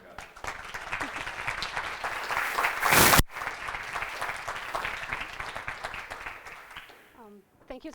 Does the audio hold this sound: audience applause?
yes